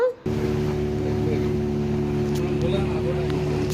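A motorboat crosses the water off Goa with a steady, low engine drone and faint water wash that run unbroken after a brief lull at the start.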